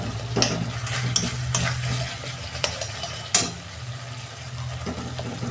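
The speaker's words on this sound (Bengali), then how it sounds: "মশলাটাকে আমি 2 মিনিট ভালো করে কষে নেব।" Spice paste with tomato, cumin and coriander powder frying in oil in a pan while being stirred, a steady close sizzle broken by several sharp scrapes and clinks of the spoon.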